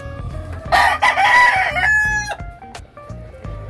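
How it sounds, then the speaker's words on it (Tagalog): A rooster crows loudly and close by, with hens clucking around it in a busy farmyard. "Ang daming manok"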